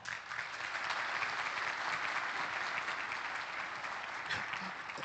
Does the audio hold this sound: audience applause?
yes